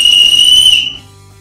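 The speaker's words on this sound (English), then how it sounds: "The adjustable sternum strap features an integrated emergency whistle." A single shrill, steady blast from an emergency whistle built into a backpack sternum strap, piercing and close, held for about a second before cutting off abruptly.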